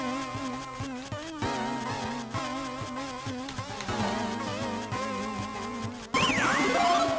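Game music and effects from the Waaw Land 4 video game, with a steady buzzing tone like bees running under a busy melodic track and a brief jingle near the end.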